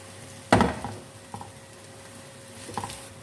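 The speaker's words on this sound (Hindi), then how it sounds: "अभी हम मसाला भिंडी को मिक्स कर लेते हैं।" Okra masala is stirred in a pan, giving a firm scrape and clatter followed by a few lighter knocks of the spoon against the metal, with a faint sizzle underneath.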